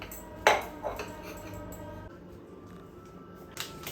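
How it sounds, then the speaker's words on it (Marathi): Dishes washed by hand at a home sink, a sharp clink of pots or utensils early on, then softer scrubbing and light knocks, close and fairly quiet. "मग आता भांडी घासून घेते."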